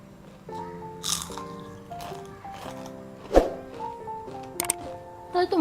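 Crisp, layered, spicy savory shankarpali, a fried Diwali snack, bitten and crunched several times at close range, with sharp cracking bursts over a steady musical background.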